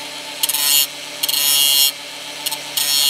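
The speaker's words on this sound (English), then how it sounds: "I've just ground that screwdriver down a bit so it fits inside the little slot." A flathead screwdriver tip is ground down on a grinder in three long, harsh rasping passes, loud and close over a steady motor hum, with no talking.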